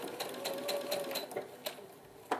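A sewing machine stitches down the center of an applique block in steady, fast, close-up rhythmic bursts, with short pauses and a sharper click near the end, and no talking.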